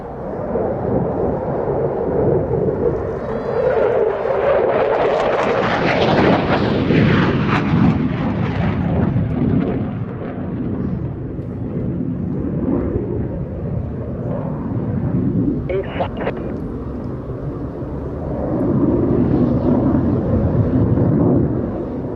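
A Belgian Air Component F-16 fighter jet, the Dream Viper, roars through an air show display, its engine thunder loud and sustained with rumbling swells and blasts that build and fade over about twenty seconds.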